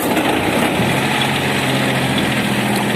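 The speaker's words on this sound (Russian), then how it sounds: "чуть-чуть дадим газу." A Mitsubishi MT170 mini tractor engine, in neutral, runs loud and steady at close range, its low rumble holding an even, throttled-up drone for the whole stretch.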